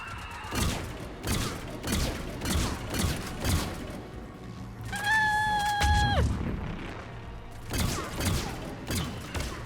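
Gunfire in the video game Mass Effect 3, a string of sharp shots in quick bursts with thuds and a rising electronic whine midway, loud and close, with no talk.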